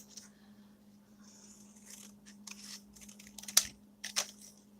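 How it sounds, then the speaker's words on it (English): Scissors handled and scraped clean of sticky residue during steampunk journal crafting, soft scraping and rustling over a steady low hum, ending in a couple of sharp metallic clicks. "Let me get the stuff off my scissors again."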